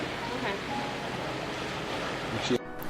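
Ocean waves washing onto a beach in South East Asia, a steady broadband surf wash with some wind, continuous and fairly soft, ending in a brief rustling bump.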